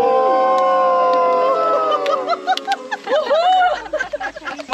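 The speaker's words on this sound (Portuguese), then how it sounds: "E uma vaia para o Jackson." A group of people at a camp games session booing together: sustained overlapping voices sliding downward in pitch, loud and close, breaking into scattered cries and shouts.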